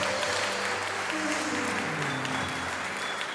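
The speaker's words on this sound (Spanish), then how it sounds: "Aplauda bien fuerte." A church congregation at a Spanish-language service claps loudly and continuously, a dense, even wash of applause throughout.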